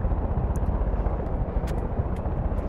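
Two helicopters in the video game Far Cry 5 drone with a steady, heavy low rotor and engine rumble that stays loud and even throughout, with faint high ticks on top and no voices.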